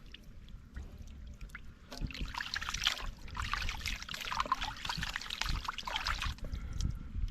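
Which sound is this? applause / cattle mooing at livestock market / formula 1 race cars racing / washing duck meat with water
washing duck meat with water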